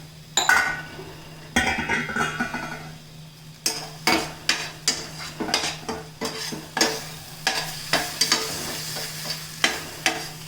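Ivy gourd masala curry fries in a pan under a low sizzle, punctuated by a rapid series of sharp spoon-on-pan scrapes and clinks, close and fairly loud, with no talking.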